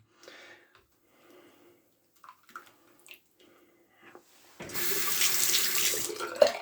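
A lather catcher from a 1907 Ever Ready safety razor is dunked into a filling sink, giving a loud, steady rush of running tap water and splashing after a few quiet handling noises, ending with a sharp clunk.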